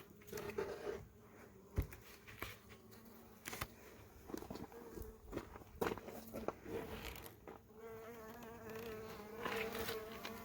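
Honey bees buzzing close by inside a hive being moved, a continuous droning hum with scattered clicks and soft rustling handling noises, fairly quiet overall.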